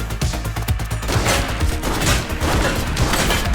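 Gunfire from the police video game The Precinct, a dense loud burst of rapid shots with crashing impacts that runs continuously through the scene, with no talk over it.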